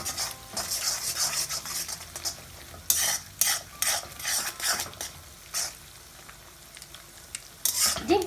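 A metal spoon stirs egg fried rice in an iron wok, Thai style, with continuous frying sizzle broken by repeated sharp scraping and clinking strokes against the pan, close and fairly loud, no voices.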